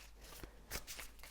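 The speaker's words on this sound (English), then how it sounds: "So I'm going to shuffle a little bit more" Tarot cards shuffled by hand during a reading, a soft papery riffling with a denser burst in the middle, close and quiet with no talking.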